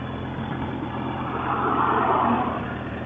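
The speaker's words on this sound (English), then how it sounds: "So you can see the bike now is idling nicely." A motorcycle engine idles steadily with a low, even rumble that swells slightly midway, then settles back to a smooth idle.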